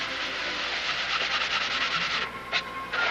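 Steel wool or sandpaper scrubs paint off a boat surface in quick repeated strokes, a harsh rasping rub that stutters near the end, close with no talking.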